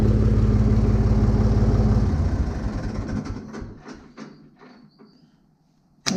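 A Renault tractor engine shutting off: a loud steady low idle rumble that winds down and fades over a few seconds, leaving scattered faint clicks and rattles, then a sudden sharp knock at the very end.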